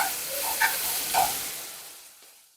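Half a teaspoon of masala hits leftover oil in a kadai, sizzling in a bright hiss that crackles briefly twice, then fades away to quiet.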